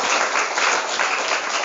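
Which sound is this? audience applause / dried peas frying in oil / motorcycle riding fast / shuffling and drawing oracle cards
audience applause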